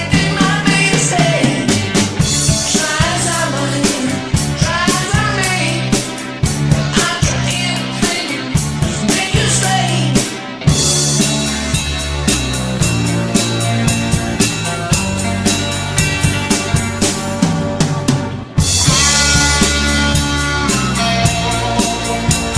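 A full rock band recording plays a song with a drum kit, dense toms and snare fills rolling continuously under the music, loud and unbroken throughout.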